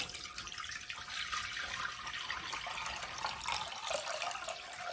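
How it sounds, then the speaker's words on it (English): Water runs steadily into an enameled cast iron Dutch oven, a continuous close pouring hiss and splash that lasts throughout without any voices. "Next, I'm going to add 4 cups of water."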